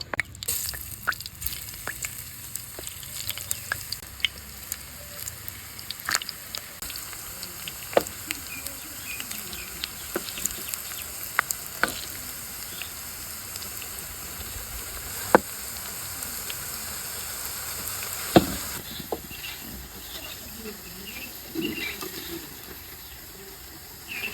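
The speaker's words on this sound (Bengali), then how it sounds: "গরম তেলে ফ্রেঞ্চ ফ্রাই ভেজে নেবো" French fries frying in hot oil give a steady, fairly quiet sizzling hiss with scattered soft pops and crackles, with no talking.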